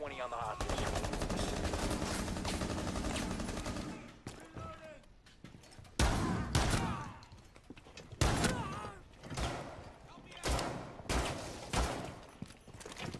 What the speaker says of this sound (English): this is the MPX submachine gun